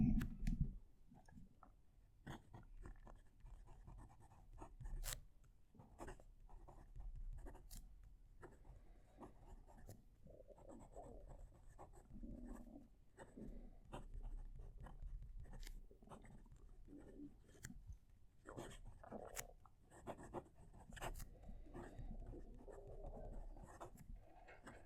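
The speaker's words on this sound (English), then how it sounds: "I'm just going to move the mic so that you can hear the pen write." A fountain pen with blue ink writing on paper, close and quiet, with faint scratchy strokes and small taps in an uneven rhythm over a long stretch, and no talking.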